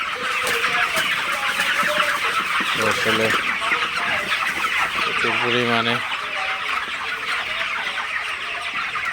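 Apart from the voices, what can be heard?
broiler chickens clucking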